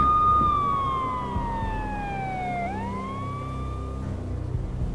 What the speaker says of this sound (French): J'entendais le hurlement des sirènes se rapprocher.